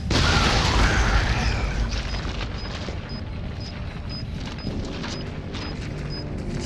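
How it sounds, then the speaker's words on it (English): A bomb detonating in Resident Evil 7, a heavy boom followed by a long rumbling decay with debris settling and a faint repeating beep. "Gonna put the bomb down."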